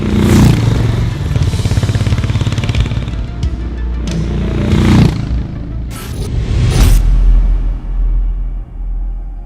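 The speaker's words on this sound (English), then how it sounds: "before you see a Harley Davidson, you hear it" A Harley-Davidson X440 motorcycle's engine rumbles close and loud, swelling with a few throttle blips and mechanical clatter, then dropping back as it settles toward idle.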